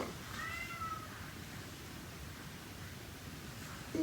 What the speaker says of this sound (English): Cats are really talkative today.